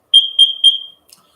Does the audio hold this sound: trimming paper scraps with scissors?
no